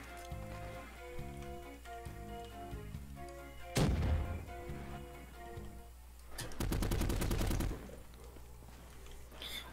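Gunfire from a wonder weapon in a Call of Duty-style zombies game, a loud single shot followed later by a rapid burst of repeated fire, over looping game music and effects.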